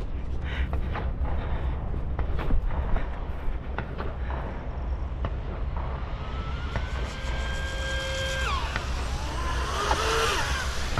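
A UDI Arrow 5 RC boat on 8S power with a 45 mm three-blade prop runs at full throttle, a loud steady high-pitched motor whine with a rising tone over water and wind noise.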